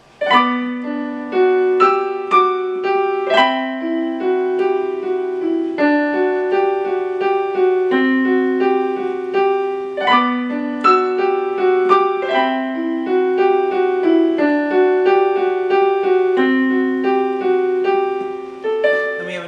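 A slow, dark piano arrangement of the Silent Night melody in a minor key plays alone, notes struck one after another over low sustained chords, moody and ominous.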